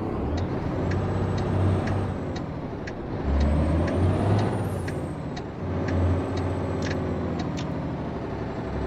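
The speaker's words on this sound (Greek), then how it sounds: "Φορτηγό κατεβαίνει ρε φίλε." A heavy truck descends a mountain road in American Truck Simulator, engine droning loudly with repeated sharp air brake hisses and releases in a steady rhythm, no talk.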